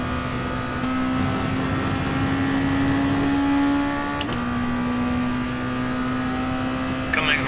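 Race car engine at Monza in GT Sport, a loud, steady high-pitched drone that holds its pitch, dips briefly around a gear change, then settles again, continuous and close throughout.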